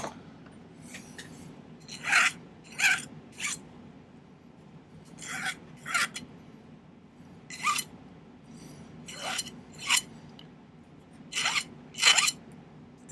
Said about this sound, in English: I'm just going to take my file and kind of clean this up a little bit